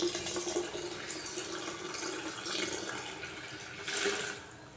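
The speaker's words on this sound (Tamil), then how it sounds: "தண்ணி ஊற்றி வச்சிட்டோம்." Water poured into a container while making homemade NPK fertilizer, a steady splashing pour with brief surges, close and moderately loud, fading slightly near the end with no talk.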